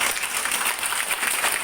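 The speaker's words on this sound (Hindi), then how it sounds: "तो ताली हो जाए।" An audience at a motivational meeting clapping together, a dense, steady crackle of applause that fills the short clip, close and fairly loud with no voices.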